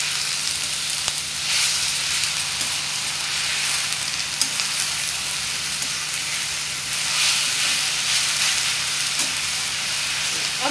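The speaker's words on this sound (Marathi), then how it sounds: "हळूहळू हलक्या हाताने भाजी छान परतून घेऊया" Drumstick leaf bhaji being stir-fried in a pan, a steady close sizzle and hiss with soft scraping stirs running throughout, no voices.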